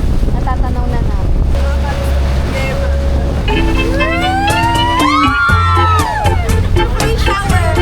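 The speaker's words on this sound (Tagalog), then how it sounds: "nakasakay na kami ng aming bangka" Boat ride toward Cresta de Gallo island off Romblon: a loud engine drone and wind buffeting the microphone, with rising tonal whines and excited voices layered over the motor in the second half.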